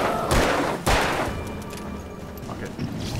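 Shotgun blasts in the video game Alan Wake, two loud booming shots about half a second apart followed by fading echo and rumble, with a voice talking faintly in the background.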